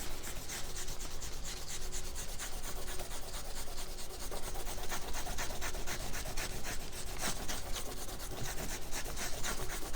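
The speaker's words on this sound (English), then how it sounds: "grab my eraser and erase all those pencil lines that I made" Pencil eraser rubbing out pencil lines on drawing paper during a kids' watercolor maple syrup drawing, a steady dense scratchy rasp of quick back-and-forth strokes continuing close up for the whole stretch with no talk.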